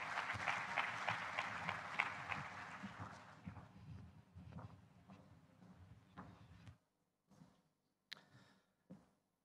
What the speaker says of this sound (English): Let's give him a very warm round of applause.